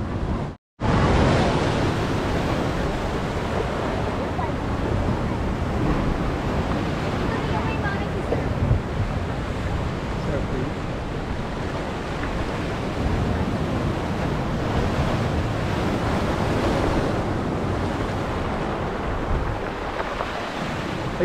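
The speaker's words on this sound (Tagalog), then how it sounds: "Sarap pag-relax yung maririnig mo lang yung alon." Continuous rushing surf close by, a steady wash of ocean waves on the shore with some wind buffeting the microphone.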